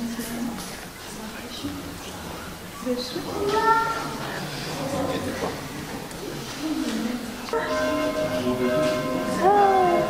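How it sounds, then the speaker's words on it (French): Church bells ring out in a melodic, resonant peal at a baptism, growing fuller toward the end, mixed with voices and children's chatter nearby. "tu as entendu les cloches, pardon."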